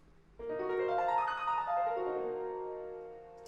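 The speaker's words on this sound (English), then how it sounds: "If I just play it on the piano, it sounds like this" A single piano chord struck once and left to ring, its rich, dissonant tones slowly fading with no other sound.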